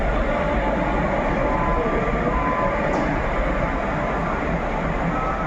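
The Dadar–Sainagar Shirdi superfast express pulls into Kopargaon station at night, a loud, steady, unbroken rumble of wheels and carriage noise with no voices.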